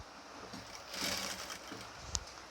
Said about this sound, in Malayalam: ഈ വശങ്ങളും കൂടി നമുക്കതും കൂടി ഒന്ന് സ്റ്റിച്ച് ചെയ്ത് കൊടുക്കാം